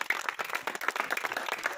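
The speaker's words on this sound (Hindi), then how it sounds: "चलिए ताली जोर से बजाइए," A crowd at an Indian political rally claps in an irregular burst of applause, moderately loud and close, lasting under two seconds.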